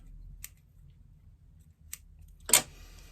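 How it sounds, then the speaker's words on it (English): Three crisp snips of small scissors cutting thread ends, close up in a quiet room, the last one louder and sharper than the first two. "My little scissors, they're much better for cutting off any thread ends there."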